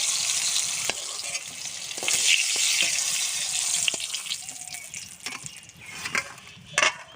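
Pointed gourd (potol) fries in oil with a steady, bright sizzle throughout, broken by occasional clicks and scrapes from stirring in the pan.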